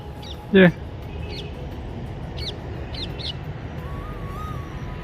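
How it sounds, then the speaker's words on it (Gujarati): A parrot calling at a village farm field in Botad, sharp squawks repeating several times over a steady outdoor background, with one loud close call near the start. "પોપટ બોલતો આવે"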